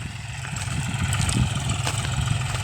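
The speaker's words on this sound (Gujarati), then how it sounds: "આપણું ટ્રેક્ટર ચાલે છે જોન ડિયર ત્રીજા લોની અંદર" A John Deere tractor works between rows of sesame in a field during interculture, and its engine chugs steadily and moderately loud in a low, pulsing rhythm with no speech.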